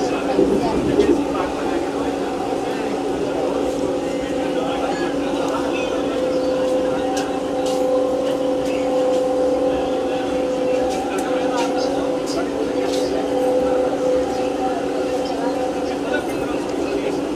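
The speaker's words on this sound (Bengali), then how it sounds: "এখন পার করছি সেই চিনাব ব্রিজ" Vande Bharat Express train crossing the Chenab rail bridge on the Srinagar–Katra line, a steady rumbling drone with a sustained tonal hum held throughout, fairly loud and continuous, with faint voices underneath.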